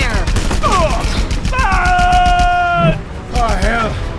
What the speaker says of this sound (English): I recognize the flak.